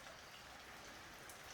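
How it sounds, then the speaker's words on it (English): Steady rain falls as a soft, even hiss of drops on a surface, faint and continuous with no voices. "Can you hear the rain?"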